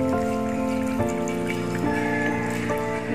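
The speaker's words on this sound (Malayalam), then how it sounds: "ഇനി ഒരു അര ഗ്ലാസ് വെള്ളം നമ്മൾ ഒഴിക്കുകയാണ്." Half a glass of water is poured into a blender jar already holding ice for kiwi juice, a continuous ringing trickle that shifts pitch in small steps as the jar fills.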